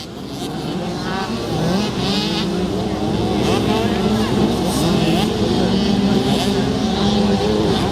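Several 65cc motocross bikes race on a Lakes track, their small two-stroke engines whining and revving together in a loud continuous buzz that rises and falls as they battle close by, with a commentator talking over it.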